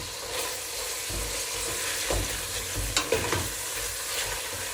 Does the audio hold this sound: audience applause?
no